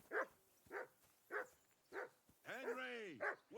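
Dog barking in Kingdom Come: Deliverance II: four sharp, evenly spaced barks, then a longer whining, howling yelp and one last bark, close and clear with no talk over it.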